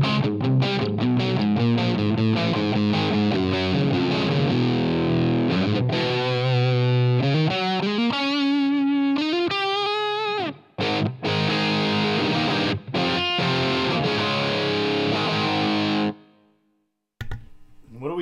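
An electric guitar played through a Helix Cartographer amp model, a loud distorted tone with chords, sliding bends and sustained notes, ending in a brief silence before a final short strum.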